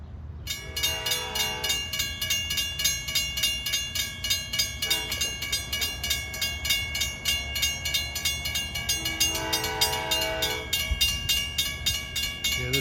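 A loud multi-tone K5LA train horn blasts in long chords over the rumble of a passing Long Island Rail Road Montauk Branch train, with clicking wheels between the blasts.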